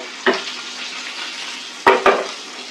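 Karanda fish frying in a little oil in a pan over medium heat, with garlic, gives a steady soft sizzle and a few short clatters as the pieces are turned.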